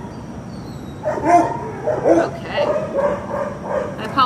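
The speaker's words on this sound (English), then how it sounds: "I apologize about the dogs barking in the background." Dogs bark and yip in the background in a string of irregular bursts over a low hum during an indoor dog-training session, and a person speaks briefly.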